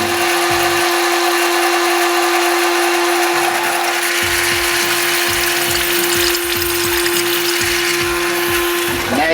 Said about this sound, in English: Once the oil pump starts to splutter and pump some air back into the system